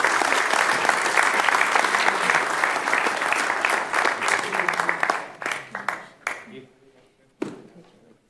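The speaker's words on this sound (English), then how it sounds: "Please give him a round of applause." A crowd applauds loudly for several seconds, then the clapping thins out into a few scattered claps before stopping.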